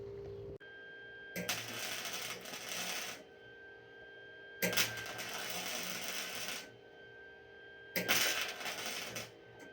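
The neck of a Harley-Davidson Sportster frame is being welded in three crackling, hissing bursts of about two seconds each. Quiet pauses with a faint steady hum separate the bursts.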